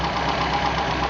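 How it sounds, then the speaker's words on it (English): MG engine with HIF carburetors idles steadily, a close, even mechanical rumble with a brief slight rise in revs as the carburetor piston is lifted. "when I lift the piston ever so slightly, I get a little blip in RPM."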